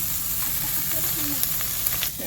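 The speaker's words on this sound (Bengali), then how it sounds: "এই শুকনো লঙ্কাগুলো আগে দিয়ে দেবো, ফোড়ন দেবো" Dried red chillies dropped into hot oil for tempering in a village kitchen, giving a steady close sizzle and hiss with faint crackles throughout, easing briefly near the end.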